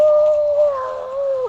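A person imitates a wolf howl with a single short, steady, mournful tone held for a moment and then trailing off, close and clear with no other talk.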